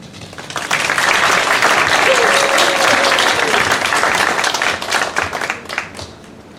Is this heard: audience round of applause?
yes